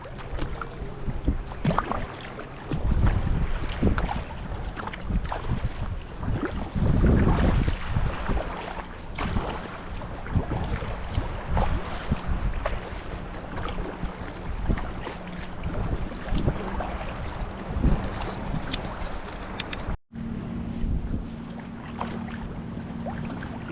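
Kayak paddling on sea water off a Washington beach near Anacortes, with rhythmic paddle strokes and water swishes over steady wind noise, continuing for the whole stretch.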